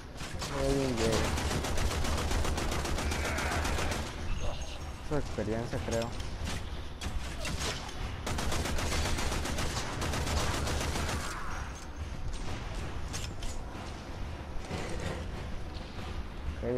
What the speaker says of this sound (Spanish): No sé dónde están llegando los balazos